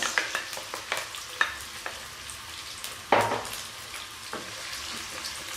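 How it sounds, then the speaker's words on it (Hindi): Onions fry in hot oil in a kadai for chicken keema: a low, constant sizzle with scattered clicks of a spoon against the pan and one louder clatter partway through, heard up close without speech. "ऑयल गर्म हो गया तो अब हम इसमें डाल देंगे प्याज।"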